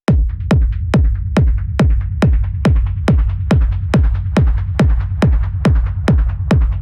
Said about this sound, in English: create these incredibly satisfying rumble sounds like this one.